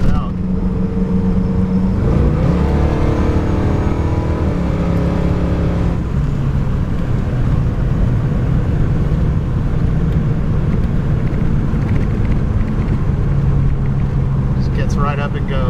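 A 1938 Ford Standard hot rod drives under power, its engine a loud, steady close rumble that rises briefly with the revs, then settles into a constant drone with road noise.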